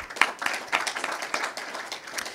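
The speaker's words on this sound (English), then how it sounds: "Please give him a clap." Audience clapping for a guest at a media launch of Asian restaurant and takeaway awards, a brief burst of scattered hand claps, moderately loud and close, with no talk over it.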